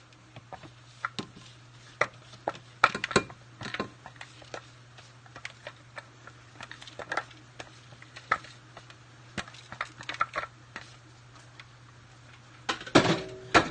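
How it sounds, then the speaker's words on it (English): A spatula pressing vegan brownie mixture into a glass dish gives scattered light taps and scrapes, irregular clicks that cluster into a busier run near the end over a low steady hum. "So I'm going to take my spatula, and I've got a glass dish here, and I'm going to press it into this glass dish."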